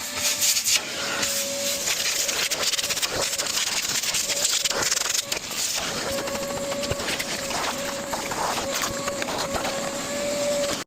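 Vacuum cleaner running inside a dirty seven-seat Tesla car interior, a steady droning motor with scraping and rubbing bursts as the nozzle works over surfaces, close and loud.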